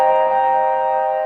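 A minor 7th chord played on an Ableton Move, a single sustained synth chord with several steady stacked tones ringing evenly at full volume for just over a second.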